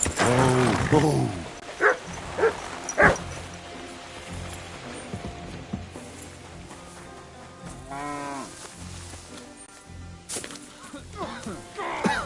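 Dog in Kingdom Come 2 gives a few scattered barks and yelps amid game noise, with people talking throughout and sharper bursts near the start and around the middle.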